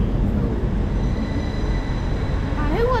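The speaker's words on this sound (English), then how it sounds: "An old school train." Old steam train running on a Yorkshire railway, a dense, loud continuous rumble of rolling wheels with a squealing tone rising near the end, heard close by.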